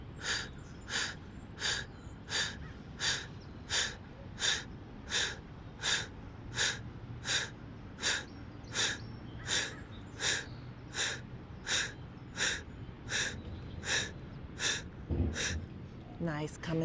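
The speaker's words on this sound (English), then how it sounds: "straight arm plank and breath of fire" Breath of fire yoga breathing during a straight-arm plank: about twenty sharp, forceful nasal exhalations in an even rapid rhythm, close and clear over a faint background.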